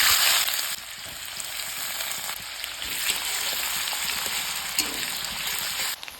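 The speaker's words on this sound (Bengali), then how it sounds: "আর একটু সর্ষের তেল দিয়ে দেবো পেঁয়াজ দিয়ে দিচ্ছি" Sliced onions frying in hot mustard oil in a pan, a loud crackling hiss at first that settles into a steady, close sizzle with no voices.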